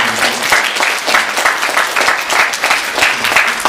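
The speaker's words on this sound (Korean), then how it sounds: "이 시간 주문도 우리 선생님들한테 박수 좀 한번 드리겠습니다" A church congregation claps for its teachers during a Sunday worship service, a dense, steady round of applause filling the room.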